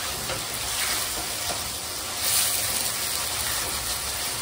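Gongura boti curry frying in a pan, a steady close sizzle with soft stirring scrapes throughout and no talking.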